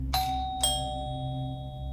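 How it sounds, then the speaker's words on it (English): Two bright doorbell chimes at the front door of an apartment unit ring close together, about half a second apart, each tone lingering and fading over a low steady hum. No voices are heard. "and rang the bell"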